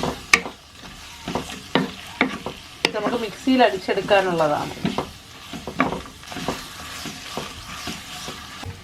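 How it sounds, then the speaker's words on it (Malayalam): Six Kashmiri chillies sauté in hot oil in a pan for a chicken curry, with crackling sizzle and a series of sharp stirring scrapes, while a voice talks over part of it. "നമുക്കിതൊന്ന് ജസ്റ്റ് എണ്ണയിലൊന്ന് വഴറ്റിയെടുക്കാം"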